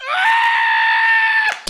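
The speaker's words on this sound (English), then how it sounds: "Can we drop a falcon screech in here?" A falcon screech sound effect: one loud, sustained, piercing cry held for about a second and a half, then cut off abruptly, with no other sound behind it.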